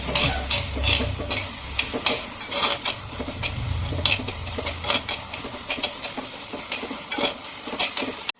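Onion, garlic, ginger, green chillies and dried chillies sauté in oil for a mackerel fish curry, a loud continuous sizzle broken by rhythmic scraping strokes of a spatula stirring the pan up close, with no talking.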